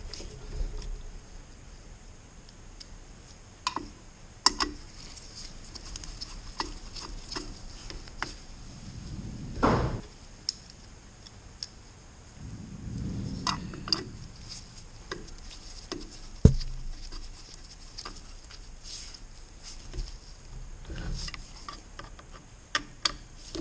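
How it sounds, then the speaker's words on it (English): Small ticks, clicks and light metallic taps come at irregular intervals as muffler bolts are tightened by hand on a Farmertec MS 660 chainsaw in a workshop, with a couple of soft rustling scrapes and no speech. "I'll just tighten these up by hand."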